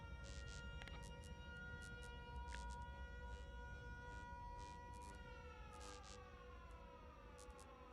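Alert sirens in the video game Factorio: Space Age wail in steady, overlapping sustained tones at low volume, accompanied by scattered short beeps and clicks, with no speech.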